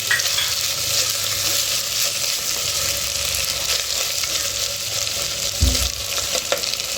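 Mixed vegetables including cauliflower frying with ground masala in a pot for vegetable pulao, a loud steady sizzle with stirring scrapes and a brief low thump near the end, no talk.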